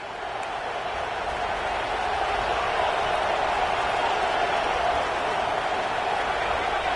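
Dense, roaring stadium crowd at a Texas vs Penn State college football game, a steady loud wall of cheering and noise sustained throughout with no break.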